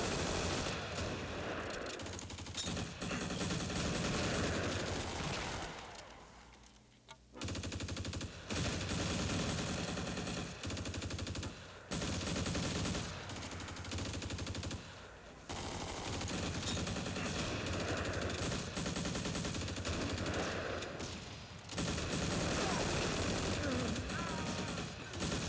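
Sustained machine-gun fire in the Close Combat strategy game, Crete battle with German troops, comes in long dense bursts with brief gaps and stays loud nearly throughout.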